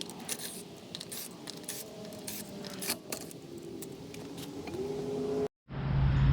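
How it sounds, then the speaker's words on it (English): A 1/2-inch-drive impact gun with a 19 mm socket removes the rear wheel lug nuts on a 2018-2023 Subaru Crosstrek, giving steady close mechanical whirring and rattling that rises in pitch near the end before a brief cutoff. "grab your impact gun with the 1/2-inch drive and your 19 millimeter socket, and we can go ahead and remove the lug nuts and the wheel"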